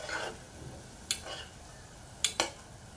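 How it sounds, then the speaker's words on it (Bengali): A spatula stirs and sautés spice paste in a pan for an eel (baim) fish curry, giving a soft low sizzle and a few sharp scraping clinks, three of them near the end, with no one talking. "মশলাটি আমি ভালো করে কষিয়ে নিচ্ছি।"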